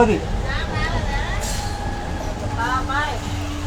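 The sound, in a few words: passing train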